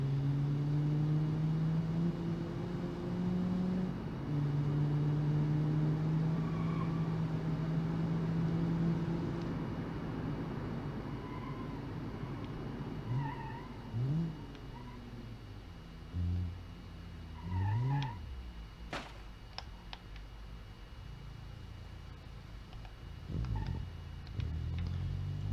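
A cheap front-wheel-drive French car, the Emmandoire Poirot, accelerates from 0 to 100 km/h in BeamNG. A steady engine drone climbs in pitch through the gears, then eases into lighter revs and brief rising whoops.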